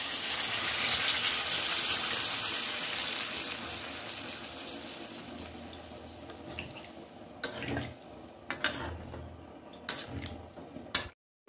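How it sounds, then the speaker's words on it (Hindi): Water is poured into simmering gravy for a no-onion, no-garlic matar paneer, a strong gushing pour at first that tapers away, followed by a few sharp clinks of kitchen utensils. "पानी ऐड कर रहे हैं ग्रेवी के लिए।"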